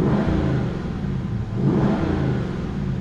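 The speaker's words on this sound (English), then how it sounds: "I'll show you the exhaust, or you can listen to the exhaust." A Jaguar XK8 coupe's exhaust revs close by, heard through a lowered window as a loud, sustained engine roar that swells, dips briefly, then climbs again, with no talking.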